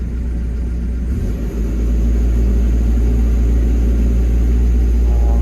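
An excavator diesel engine runs on auto idle, a loud, steady low rumble that dips briefly and then settles into an even drone, heard close up with no talk.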